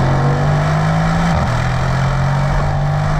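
A 2020 Mercedes-AMG C63 S engine drones steadily at a constant pitch that dips briefly partway through, a deep and loud exhaust tone muted slightly by a particulate filter, with no voices.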